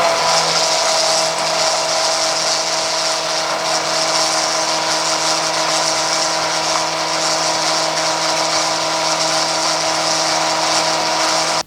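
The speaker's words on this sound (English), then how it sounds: "you can use the little transfer pump and pump it all in that way" A small transfer pump runs continuously while pumping transmission fluid into a Chevrolet Colorado or GMC Canyon truck, a loud, steady mechanical whir with a constant hum and no breaks.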